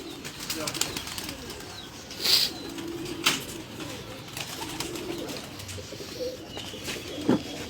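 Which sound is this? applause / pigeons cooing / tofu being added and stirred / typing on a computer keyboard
pigeons cooing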